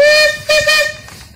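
A steam traction engine at an outdoor steam engine show sounds its whistle in a loud, close, piercing tone that briefly breaks and resumes before tapering off.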